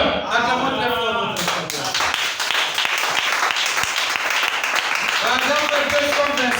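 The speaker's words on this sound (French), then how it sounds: "Acclamons très fort." A live audience bursts into loud, sustained clapping that fills the space after a brief stretch of someone speaking, the applause continuing dense and even to the end.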